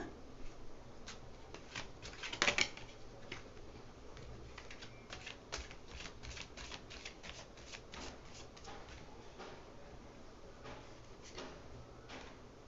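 Tarot cards shuffled and drawn for a reading: steady soft riffling and flicking of the deck close up, with a sharper snap partway through and no talking.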